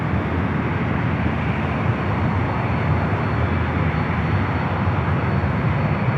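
A passenger airliner roars steadily at Los Angeles LAX airport, a loud, continuous broadband engine rush that holds even throughout, close by and with no voices over it.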